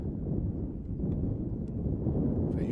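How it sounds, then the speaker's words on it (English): Strong wind gusting around 45 across an outdoor soccer field during a college penalty shootout, a continuous low buffeting roar hitting the microphone throughout, loud and steady with no voices. "The wind is right at their back, blowing around 45"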